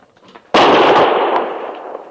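A single loud rifle shot in a radio drama, a sudden sharp crack followed by a long fading boom, close and alone.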